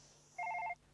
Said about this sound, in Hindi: यार, एक और कंडोलेंस फोन।